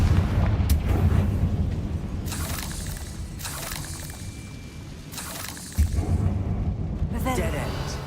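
Confringo fire spell blasts in Hogwarts Legacy go off as several separate booming bursts a second or two apart, set against a rumbling game background, with voices heard in places.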